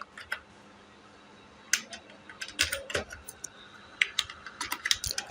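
Someone types on a computer keyboard at close range, with irregular bursts of crisp key clicks and short pauses in a quiet room.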